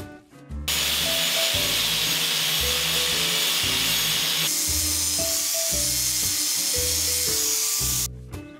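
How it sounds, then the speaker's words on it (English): A power grinder fitted with 80-grit sandpaper hisses steadily for several seconds as it sands and polishes an old metal axe head, with rhythmic music playing underneath. "we'll work with a grinder with sandpaper number 80"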